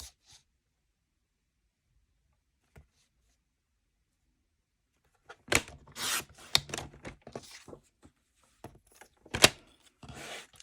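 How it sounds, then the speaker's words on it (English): Paper is cut into a narrow strip, heard as close, soft scraping and snipping strokes in irregular bursts after several seconds of near silence. "Just cut a strip, maybe half an inch."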